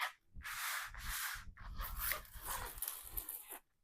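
A dog makes noise indoors, several close, loud bursts of whimpering and panting-like vocalizing in quick succession, with no talking over it.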